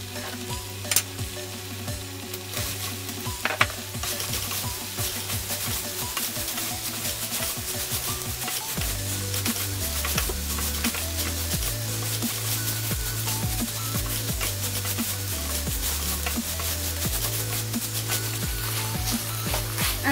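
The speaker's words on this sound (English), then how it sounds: "Once your sauce starts to bubble, put your tofu in." Tofu frying in a bubbling sweet and spicy sauce, a steady dense sizzle with stirring and scraping throughout, close and continuous with no talking.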